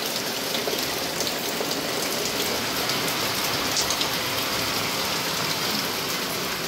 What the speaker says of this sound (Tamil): மழை வந்துச்சுன்னா நல்லா ஒழுகும், இதெல்லாம் நல்லாவே ஒழுகும்